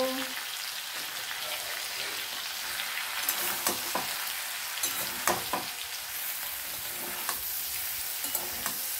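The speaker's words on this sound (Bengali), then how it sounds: "এটা এখন ভালো করে নাড়াচাড়া করে নেব।" Chili powder and coriander powder frying in a pan, a constant close hiss of sizzling oil with spoon scrapes and clicks from stirring running throughout, no talking.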